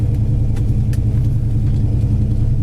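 A warmed-up 1964 Dodge Polara with a 440 dual four-barrel cross-ram engine idles at a steady, even level, giving a deep continuous rumble with no breaks.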